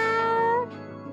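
A cat gives one drawn-out, clear meow that rises and then trails off, close and fairly loud, with no talking over it.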